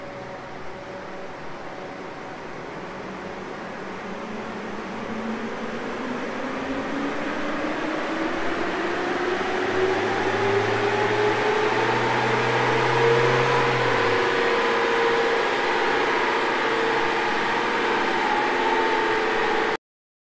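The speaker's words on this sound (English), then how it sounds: "This is the dyno before run." Isuzu KB250 DTEQ diesel pickup running on a wheel dyno, a steady drone that rises smoothly in pitch and builds slightly in loudness over a long pull, with a continuous broadband hum behind it and no talking.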